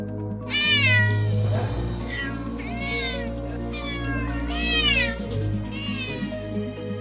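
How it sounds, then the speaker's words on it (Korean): Dozens of caged cats in a house in a Busan residential area meow and yowl over one another, a loud, continuous chorus of overlapping plaintive cries with a low steady hum beneath. "고양이 400여 마리가 철창에 갇힌 채 발견돼"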